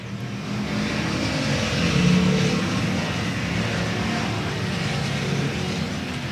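Race cars roar around a South Texas speedway oval on the final lap of an evening event, running side by side; a dense, steady engine drone fills the whole stretch, swelling slightly midway as the pack passes.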